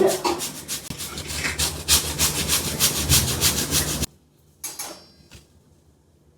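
Modak ingredients are rubbed against a hand grater in a kitchen, producing steady, rapid rasping strokes for about four seconds, close and loud. A brief pause follows, then a couple of softer scrapes.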